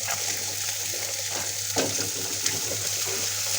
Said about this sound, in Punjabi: ਹੁਣ ਆਪਾਂ ਇਹਦੇ ਵਿੱਚ ਕੱਟਿਆ ਹੋਇਆ ਪਿਆਜ਼ ਪਾ ਦਾਂਗੇ